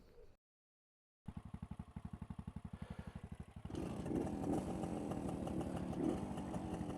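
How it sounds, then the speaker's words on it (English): An old motorcycle engine sputters through rapid kick-start pulses, then catches and roars into a rough, loud idle close by. "I was actually capable of starting a motorcycle"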